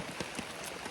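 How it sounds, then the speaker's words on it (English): Heavy rain pours steadily in the early morning along a mountain trail, a dense continuous hiss with scattered drop patter, loud and close. "It's been pouring rain for 2 hours now"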